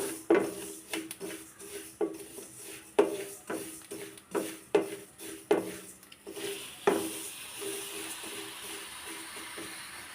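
Nigella seeds (kalonji) frying in a hot pan, a sequence of sharp crackles and pops at irregular intervals over a soft steady sizzle, fading into a continuous hiss.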